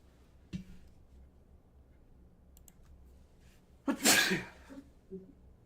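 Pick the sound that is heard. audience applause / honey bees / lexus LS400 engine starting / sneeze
sneeze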